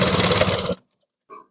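A sewing machine stitching blouse fabric pieces for a 34-size neck blouse runs in one loud, steady burst, then stops abruptly. A brief, faint sound follows after a short silence.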